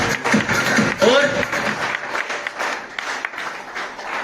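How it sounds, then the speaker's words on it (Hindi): An audience at a business meeting bursts into loud, dense applause that fades slightly toward the end, with a voice speaking over it near the start. "सभी भाइयों के लिए एक बार जबरदस्त तालियां साहब"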